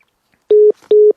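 Two short electronic beeps signal the end of a phone call, sharp and loud with a brief pause between them and no voices.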